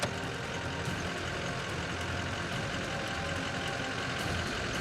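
A truck rumbles past on a road, a continuous, fairly faint engine and tire roar that stays even throughout, with no voices over it.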